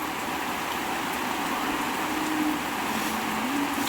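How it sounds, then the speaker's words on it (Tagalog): Heavy rain pours down steadily as a dense, constant wash of noise, close and unbroken, with no talking over it. "Hala, lakas ng ulan."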